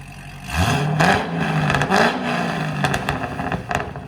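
Chevy C6 Corvette 6.2L V8 with stainless long-tube headers, mid-pipe and Borla ATAK exhaust, not yet tuned, revving hard in two quick, loud, close pulls before settling into a rumbling idle with light pops.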